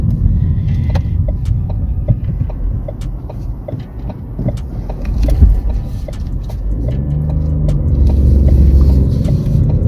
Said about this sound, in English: I'm really struggling with this manual car.